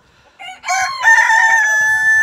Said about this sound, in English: sorry, I'm watching these roosters.